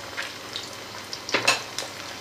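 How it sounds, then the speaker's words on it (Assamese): Broiler chicken fries over a low gas flame, giving a gentle continuous sizzle broken by a few sharp stirring clinks and scrapes, with no talking. "এতিয়া এইখিনি একেবাৰে কম জুইত ভাজি ল'ম আৰু তেতিয়া মচমচীয়া হ'ব"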